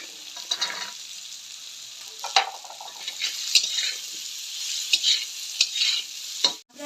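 Green peas fry in a pan as hot oil splutters and crackles, with irregular sharp pops and stirring over a continuous sizzle.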